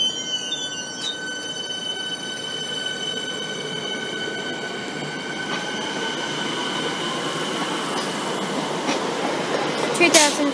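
A Melbourne suburban train pulls out of the station with a steady rolling rumble and high whining tones from the motors and wheels, close and loud, growing slightly toward the end.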